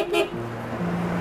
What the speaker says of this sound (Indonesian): Coba klakson